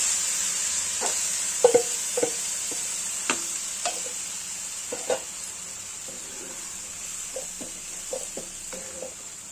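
A tadka with kasuri methi goes into egg tarka in a hot pan and sizzles with a constant hiss, broken by sharp clicks and scrapes of stirring.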